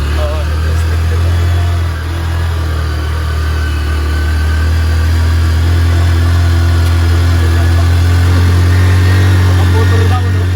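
A motorcycle engine runs steadily uphill on a steep road in Batanes, near Valugan Boulder Beach, with a constant low drone that holds for the whole stretch and voices murmuring faintly beneath it.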